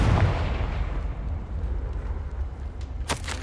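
Confringo spell blast in Hogwarts Legacy, a deep booming explosion that opens loud and decays into a rumbling tail, followed by a couple of sharp crackling bursts near the end.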